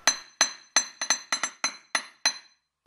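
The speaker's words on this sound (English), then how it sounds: "I'm just going to hammer it so it's flat right at the end, but tapering back up to round at the centre." A small hammer strikes the end of a metal wire on a hard block for a jewellery chain link, nine sharp ringing taps at a steady, slightly uneven pace, close and clear with no voices.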